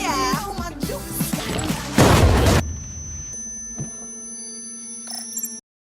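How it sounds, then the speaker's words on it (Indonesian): After squealing, chaotic sounds, a loud booming burst crashes through for under a second, then ringing tones and quieter noises linger. "tiba-tiba ledakan terjadi"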